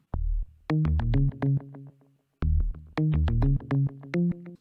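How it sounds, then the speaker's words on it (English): A punchy FM synthesizer bass preset on FM8 plays a funky, syncopated line of short and held notes, with a brief pause before the phrase repeats. "I found a nice bass preset on the FM8 and played this line."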